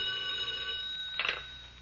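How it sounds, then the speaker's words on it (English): A telephone bell rings as a radio drama sound effect, one steady electric ring with a brief louder burst near the end, close and clear with no voices. "when the phone rang"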